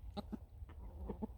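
A garden chicken with feathers missing from its back clucks in about six short, clipped notes spaced unevenly, close by and fairly soft against low background noise.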